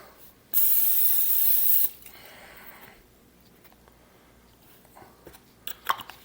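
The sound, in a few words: cooking spray spraying into pan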